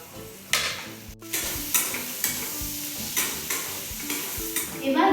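Chopped green chilies sizzle and fry in a pan for a chili chicken dish, a spatula stirring and scraping with repeated sharp clacks over a steady close hiss, no voices.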